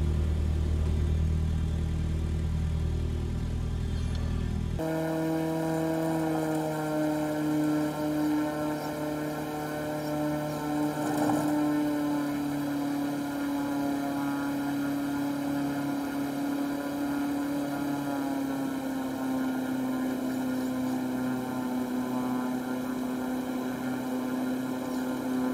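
A small aircraft taxis onto the runway, its engine humming steadily with a strong droning tone that changes pitch slightly and carries on close and even throughout.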